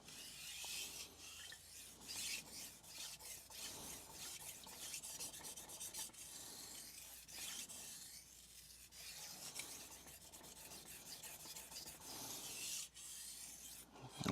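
A knife blade rubs back and forth across a Suehiro Cerax 1000 vitrified sharpening stone in steady, close, soft rasping strokes that repeat evenly throughout, with no talking.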